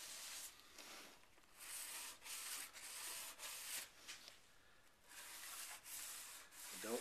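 Hand rubbing of a lacquer finish along a routered wooden profile, a soft, close, steady scratchy friction in short repeated strokes with brief pauses, no voices.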